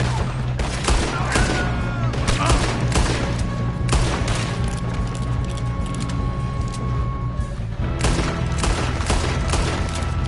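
Gunfire in the Western video game Red Dead: loud, continuous shootout with repeated sharp shots and booms over a constant rumbling background, close and dense throughout.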